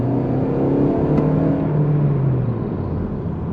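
A Lexus UX200 F-Sport with a 2-litre engine pulls hard under full throttle, its engine note rising and swelling loudly before easing off, heard from inside the car with no talking.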